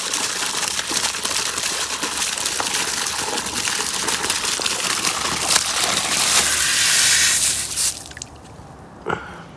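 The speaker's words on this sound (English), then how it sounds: "So let me pop this off. So that's just pressure from the artesian well." Water bursts from an uncapped artesian well pipe in a yard, a loud continuous pressurised gush and splash that holds steady for several seconds, swells briefly, then cuts off abruptly near the end.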